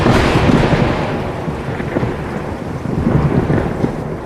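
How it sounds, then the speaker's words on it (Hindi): A thunderstorm rumbles with heavy, continuous rain and rolling thunder, a dense, loud wash of sound with swelling low booms and no voices. "बारिश लगातार हो रही थी और बिजली भी कड़क रही थी।"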